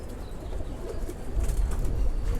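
Red-spotted pigeon chicks huddle together in a loft waiting to be fed, with soft low cooing and rustling close by, growing slightly louder midway.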